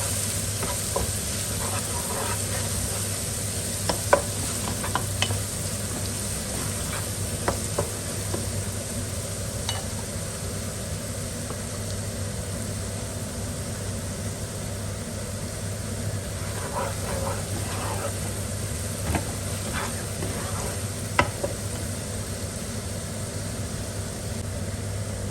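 Garlic and ginger paste, a tablespoon of each, sizzling and being stirred with browned onions in a pan, a steady close frying hiss with scattered scraping stirs and no talk.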